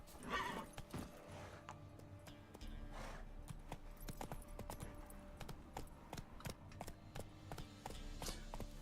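Rapid video game horse hoofbeats clatter in a steady galloping rhythm, with sharp repeated clicks over a low background hum.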